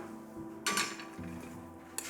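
A frying pan is picked up and set down on a hard surface in a quiet kitchen, with two short metallic clanks and a few softer knocks in between, and no talking.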